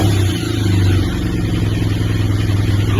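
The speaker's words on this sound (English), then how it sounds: "Let's start up the engine." A motorcycle engine idles steadily just after starting, a low continuous rumble with a faint clatter, close and loud with no one talking.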